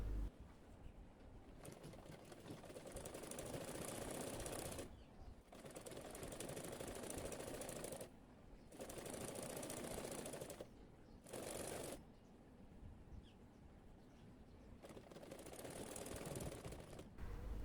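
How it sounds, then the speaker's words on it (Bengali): A sewing machine stitches stretched elastic onto a girl's layered frock in long, even whirring runs broken by short pauses as the fabric is repositioned, with no talking. "সেলাই করার সময় রাবারটাকে টেনে টেনে সেলাইটা করে নিতে হবে।"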